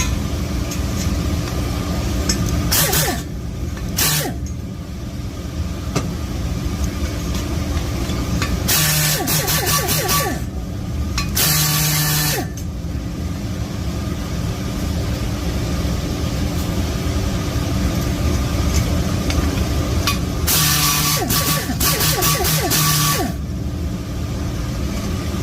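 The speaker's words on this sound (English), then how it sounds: "So let me grind the seats. Let's start off on the exhaust." Exhaust valve seats ground on a Toyota 3RZ cylinder head in a workshop, several bursts of high whining grinder noise over the steady drone of an exhaust fan.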